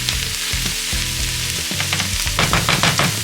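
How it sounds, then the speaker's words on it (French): Mushroom duxelles dropped into hot nutty brown butter, sizzling loudly and steadily up close, with brisk crackles and pops picking up toward the end and a faint background tune underneath. "on plonge notre duxelle de champignons et on laisse mijoter."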